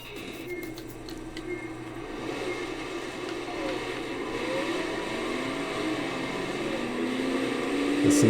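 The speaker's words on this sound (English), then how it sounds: "Listen to the terrible engine sounds in this game" Car engines in the racing video game Sega GT 2002 drone steadily with whining tones that climb in pitch toward the end, growing gradually louder, with no talk over them.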